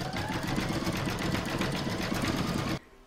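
An embroidery machine stitches white thread for the whites of a bunny's eyes on an in-the-hoop mug rug, whirring in a steady loud rapid rhythm that stops abruptly near the end.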